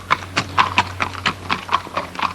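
Polo horses' hooves clip-clop in a quick, steady rhythm, about ten crisp, close strikes in a row over a faint low hum, with no talking.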